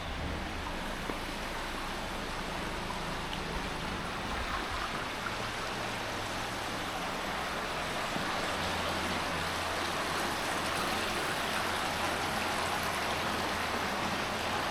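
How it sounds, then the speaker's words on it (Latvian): Water pours steadily at an old spring in Siena, Tuscany, where locals once drank and fish swim in the green pool; a dense, even rush holds close and unbroken throughout, with no voices. "Parādīšu jums ūdens avotu no seniem laikiem, kur vietējie iedzīvotāji pat to ūdeni agrāk dzēra."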